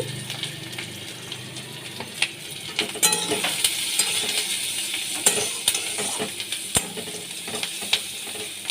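Shrimp fry in a little oil with onion, green chillies and turmeric, making a close, continuous sizzle broken by repeated clicks and scrapes of a stirring spatula.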